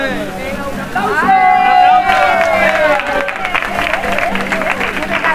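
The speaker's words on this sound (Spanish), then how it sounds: "¡Un aplauso!" An audience at a carnival chirigota show claps and cheers under loud crowd babble, with performers' voices and a sustained sung or shouted note over the applause.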